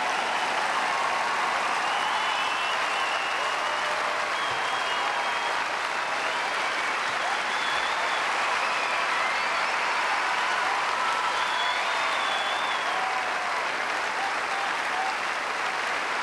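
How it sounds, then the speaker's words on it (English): A crowd gives a long standing ovation at a Sampras tennis match against Greg Rusedski, the applause loud, dense and unbroken throughout with faint whistles and cheers mixed in. "A standing ovation here for Greg Ruzetsky, who has fought his heart out"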